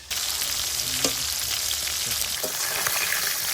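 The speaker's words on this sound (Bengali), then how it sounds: "আমাদের কড়াই চেপে গেছে, পেঁয়াজ কষানো চলছে।" Onions sizzle and fry in oil in a wok in a home kitchen, a loud, constant crackling hiss with occasional stirring scrapes and no talking.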